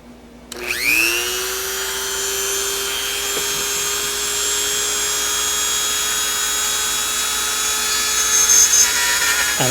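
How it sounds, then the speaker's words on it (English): A Dremel rotary tool spins up with a rising whine and then holds a steady high-pitched grind as it cuts a slot into a hole on an arcade machine part. The whine is loud and close, with no talk over it. "I took my Dremel"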